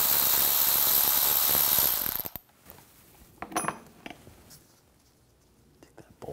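A ratchet fitted with a 10mm socket works a bolt loose on a 2015-2020 GMC Yukon XL thermal bypass valve line: a loud, steady whirring clicking run lasts two seconds, then stops and gives way to a few faint metallic clinks and handling noises.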